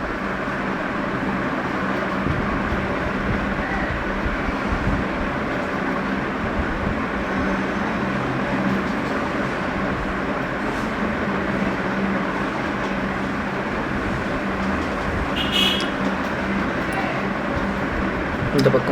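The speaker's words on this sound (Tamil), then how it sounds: "வரான் பூச்சாண்டி ரயில் வண்டியிலே." A train approaches in the Ice Scream 2 video game as a steady, continuous rumble that fills the whole stretch, with a voice talking over it.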